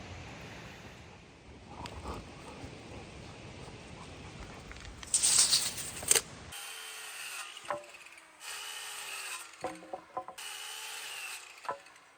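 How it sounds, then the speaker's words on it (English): Handsaw cutting through 2x4 lumber for a chicken coop, steady rasping strokes for several seconds followed by a quieter stretch of rubbing, scraping and clicks as work continues. "we have some 2x4s to cut right now"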